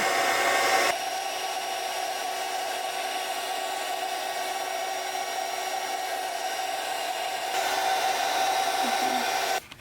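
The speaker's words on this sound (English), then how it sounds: "All right, heat gun." A heat gun blows continuously while melting embossing powder flecked with blue glitter on a handmade Christmas card, a loud, steady airy roar running for several seconds before it is switched off at the end.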